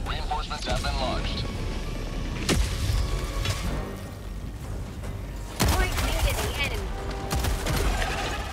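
Rocket and weapon fire in the Helldivers 2 shooter, with repeated loud blasts and bursts of shots over a dense battle din while someone talks.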